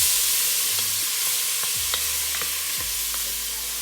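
A steady, loud sizzle of onions, garlic and tomatoes frying in a pot, with occasional stirring scrapes and small pops, no speech.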